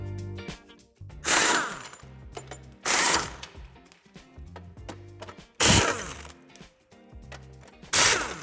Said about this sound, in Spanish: Quitaremos el refuerzo metálico con 4 tornillos a ambos lados.